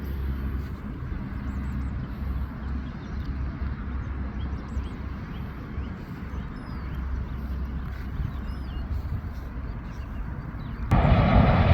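Airplane approaching to land at Auckland Airport, heard from a scenic lookout as a steady distant engine roar that holds throughout and swells louder near the end.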